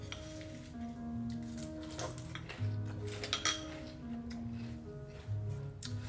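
A spoon clinks against a bowl of fiber cereal with almond milk, giving light, irregular taps and scrapes close by over a low background.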